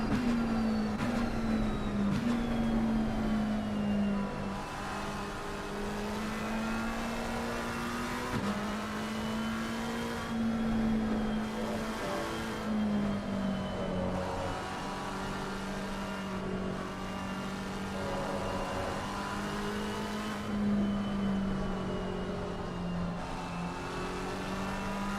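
Race car engine in a sim racing game, a continuous loud drone that rises and falls through repeated throttle and gear changes over a long stretch, with no speech.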